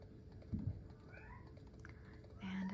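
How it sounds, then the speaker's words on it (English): A house cat gives a couple of faint, short meows over quiet background noise with soft tapping. "And there's my cat."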